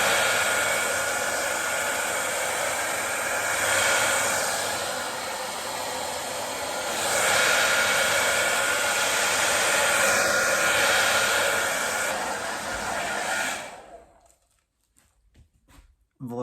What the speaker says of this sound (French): J'ai sèche-cheveux, j'ai lisseur, j'ai brosse, j'ai tout ce qu'il faut.